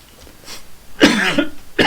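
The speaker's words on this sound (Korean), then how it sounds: "그냥 기침 나온 거예요" A person coughs, a soft cough followed by a louder, harsher cough and another starting at the end, close up and alone with no speech.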